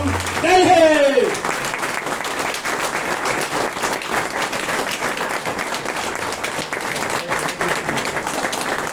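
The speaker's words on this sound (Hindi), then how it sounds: "जोरदार तालियों से स्वागत करेंगे दोस्तों" An audience at a motivational event bursts into loud, sustained applause to welcome a speaker, dense clapping filling the room for several seconds after a brief voice at the start.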